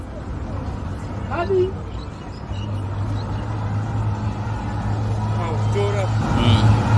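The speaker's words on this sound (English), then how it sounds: "these are police trucks deporting foreigners" Police trucks drive past on a road, heavy engine rumble and traffic noise building over several seconds with a brief hiss like an air brake, while a voice talks over the top.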